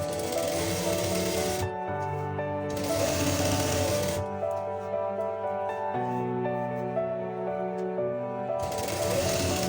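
Sewing machine stitching a trouser seam, a close, fast mechanical whir of needle strokes running steadily with brief changes in pace, with no talk.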